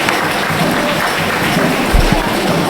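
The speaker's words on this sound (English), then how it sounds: "Appreciative round of applause from our knowledgeable crowd" Football crowd in a stadium giving steady appreciative applause, a dense continuous wash of many hands clapping at a distance, fairly loud and unbroken throughout.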